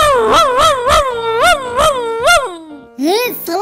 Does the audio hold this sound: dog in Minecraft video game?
yes